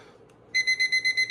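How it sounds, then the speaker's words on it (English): A mechanical kitchen timer used as a Pomodoro timer on a desk goes off after a short quiet moment. Its bell rings in a quick, steady burst of about six bright strikes. "I have this kind of Pomodoro timer. It's a kitchen timer I stole from my mother"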